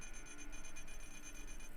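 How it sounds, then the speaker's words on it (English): Steady electronic menu beeping from Dead Space 2, with high-pitched tones pulsing rhythmically over a constant hum, fairly faint throughout. "Listen to the beeping of the menu."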